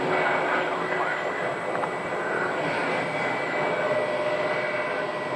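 An American Airlines jet landing from Newark roars steadily at Phoenix airport, a broad continuous engine rumble with a faint high whine, heard from a distance without pause throughout.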